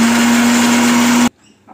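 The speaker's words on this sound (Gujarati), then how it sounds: "પાણીને હવે આપણે વાટી દઈશું મિક્સરમાં." A kitchen mixer grinder blends chutney thinned with water, after lemon juice has been squeezed in. The motor whines loud and steady for over a second, then cuts off abruptly and leaves near silence.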